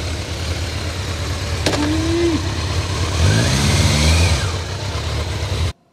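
A 1999 Kawasaki ZRX1100 motorcycle engine runs close and loud, idling with a rough low rumble that rises in pitch as it revs up and then settles before cutting off abruptly.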